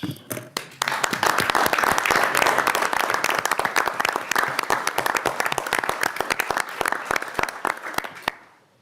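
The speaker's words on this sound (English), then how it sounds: "we should thank them for their work with a round of applause" Lawmakers in a House committee room applaud retiring members: a few scattered claps swell into steady, fairly loud clapping that gradually thins to isolated claps and stops before the end.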